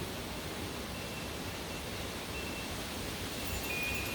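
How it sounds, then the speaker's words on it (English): Wind blowing outside, a steady soft broadband rush that stays even and continuous throughout, with no voices over it. "y'all hear that wind?"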